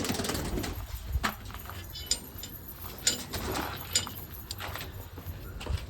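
Pigeons coo softly amid scattered clicks and light taps, with a few sharper knocks punctuating the low, fluttering murmur.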